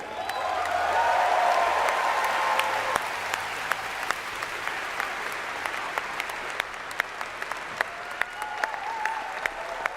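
An audience at The Game Awards applauds during the Clair Obscur: Expedition 33 Game of the Year acceptance speech, a broad, sustained wash of clapping that swells early and then continues steadily, with brief cheers above it.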